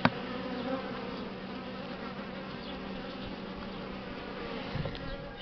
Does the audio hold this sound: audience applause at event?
no